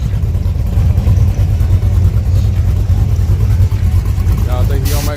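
A nitrous-equipped drag race car with floaters runs its engine at a drag strip during a track night, a loud continuous rumbling drone with crowd voices and talk mixed in throughout.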